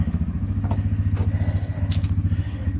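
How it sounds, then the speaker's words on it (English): An old farm tractor that has sat idle since the end of summer starts up and runs with a loud, steady, rhythmic low chug and some clattering mechanical knocks, close by, with no talking. "Now I gotta see if the tractor will start."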